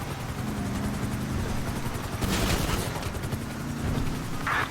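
GTA 5 helicopter rotors thump steadily as it crashes into a wind turbine, with a burst of crackling gunfire-like noise partway through and nobody speaking.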